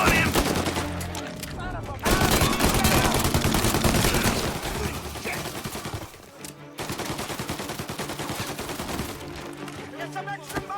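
Gunfire in the Mafia Definitive Edition video game: sustained loud bursts of automatic fire and rapid shots in long stretches, broken by two brief pauses, with shouting voices mixed in.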